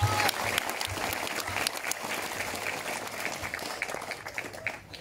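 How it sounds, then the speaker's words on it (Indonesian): A crowd at a Pagar Nusa Ogan Ilir religious study gathering breaks into sustained, dense applause, steady and fairly loud throughout before tapering off at the very end. "Tepuk tangan untuk teman-teman kita yang lainnya"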